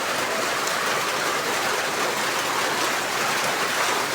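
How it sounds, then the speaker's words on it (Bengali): Heavy rain pours down in Bangladesh, a dense, unbroken roar of falling water that holds at a constant loudness for the whole stretch. "প্রচুর বৃষ্টি"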